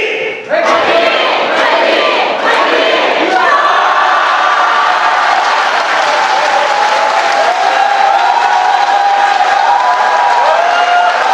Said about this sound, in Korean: 여러분 계속 큰 박수와 함성 부탁드리겠습니다.